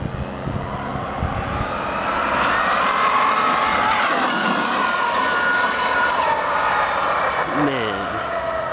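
A custom-built Traxxas X-Maxx RC monster truck with a Tp Motor runs at full throttle on a street, a loud sustained electric motor whine that rises and falls in pitch, with a brief sweeping pass near the end.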